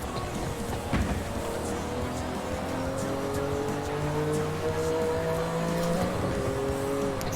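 A race car with anti-lag in the video game Forza Horizon 6 roars at high revs, engine note rising and falling through gear changes, with tire squeal and faint crackles underneath, loud and close.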